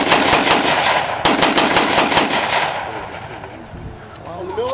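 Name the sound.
WWII rifle with bipod firing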